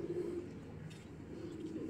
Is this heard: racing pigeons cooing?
yes